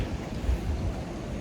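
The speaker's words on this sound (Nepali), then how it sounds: "ठुलो पानी परेर खोला चाहिँ एकदमै बढेको छ" Low, heavy rushing of a river swollen by heavy rain, with a steady rumble and some wind buffeting, loud and close throughout.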